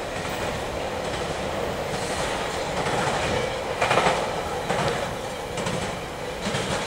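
Norfolk Southern intermodal freight train 204, led by Union Pacific AC45CCTE 7381, rolls past Charlotte Junction on the Piedmont line, a steady close rumble with clacking wheels and brief louder bursts as the rear cars go by.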